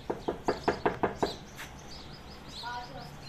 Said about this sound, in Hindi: पहले नोक करना दरवाजा।